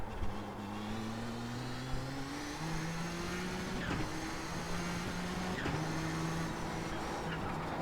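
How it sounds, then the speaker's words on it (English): A heavily turbocharged V6 engine of a Nissan GTP ZX-T race car in iRacing hums and whines at steady pitch, shifting up and down through gears, with small clicks and thumps layered over continuous motor noise. "There's something about a heavily turbocharged V6 that's just so satisfying."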